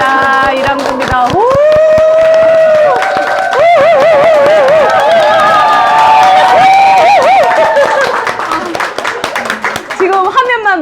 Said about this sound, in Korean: 지금 함성은 한 1200명쯤 되는 것 같아요